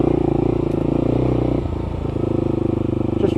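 A motorcycle riding along Kentish country lanes and byways, its engine droning loud and steady close by with a rhythmic pulse and a brief dip as it shifts, wind rushing over the top.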